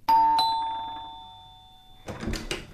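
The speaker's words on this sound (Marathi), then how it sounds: "बेल वाजायची." A doorbell rings in a Marathi radio play with a clear two-tone ding-dong chime that rings out and decays, followed by rustling and movement sounds.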